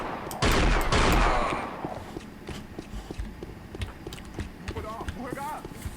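A golden revolver firing in Unreal Tournament 99 sets off one loud, booming shot with a long decay, followed by lighter clicks and scattered in-game sounds at a lower level.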